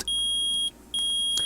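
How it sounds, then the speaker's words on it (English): A metal detector from the Phoenix Wright: Ace Attorney video game gives two sustained, loud electronic beeps in quick succession, each a steady high tone with a short gap between, and no voices. "I permit the use of the metal detector."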